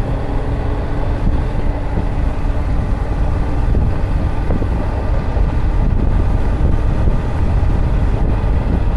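A Yamaha YZF-R7 sport motorcycle is ridden and accelerated in fifth gear. A steady, loud engine drone is heavily buried in continuous wind roar, with no talk.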